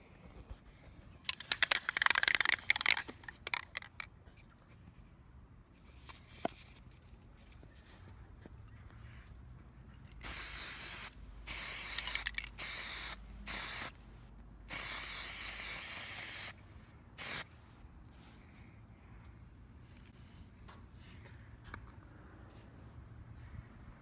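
Plasti Dip coating sprayed onto a car grille in bursts: an early hissing spray, then a series of loud aerosol blasts of varying length, with quieter handling sounds in between and no talk.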